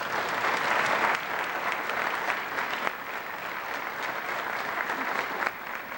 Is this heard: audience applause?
yes